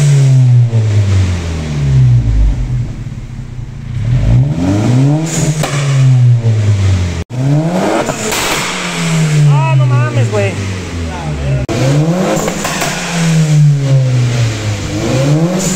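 Modified Audi car engine revving hard on the street, several rising and falling revs in succession, loud and close, with a brief cut midway.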